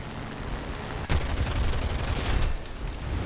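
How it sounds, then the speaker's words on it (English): Machine guns of a BF-109 G-2 Trop fighter plane in War Thunder, a sudden sharp onset into a dense sustained rattle over steady engine drone. "I can maybe finish him off with the machine guns here"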